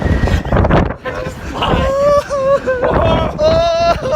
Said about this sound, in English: it's so windy up here, guys. It's amazing. You can probably hear the wind, honestly.